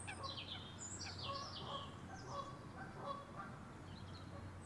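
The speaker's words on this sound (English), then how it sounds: "Geese down the left." Geese honking repeatedly at a distance beside a lake, calls rising and falling over steady low background noise during a winter pike fishing session at Orchid Lakes.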